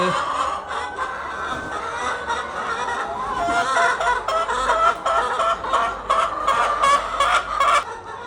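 Chickens on a poultry farm cluck continuously and fairly loudly, many birds overlapping in a busy, close chorus.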